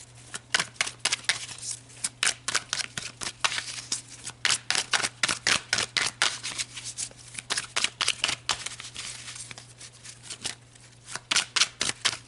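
Tarot cards are shuffled repeatedly up close, rapid riffling bursts and snaps in quick succession with short pauses, over a low steady hum.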